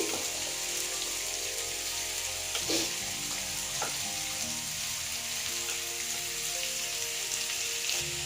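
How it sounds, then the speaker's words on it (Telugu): Tender sliced ridge gourd fries in a pan of hot oil with tempering seeds, giving a steady, dense sizzle throughout, with a couple of faint stirring knocks. "బీరకాయ అవన్నీ వేస్తున్నాను అనమాట బీరకాయ కూడా లేతది కాబట్టి అది తొందరగానే వేగుద్ది"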